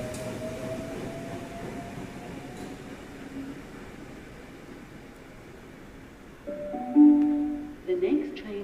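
A Sydney train at Green Square station gives a steady low rumble and hiss of rail noise that grows louder near the end, with a brief high electronic chime and a platform announcement over it.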